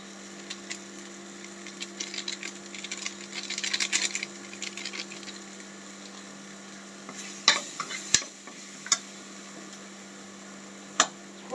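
Ground spices and chilli powder, turmeric and masala with crushed coconut and coriander, dry-roasting in a pan for soybean curry, with a steady low sizzle and scraping stirs, a busy patch early on and a few sharp utensil taps near the end.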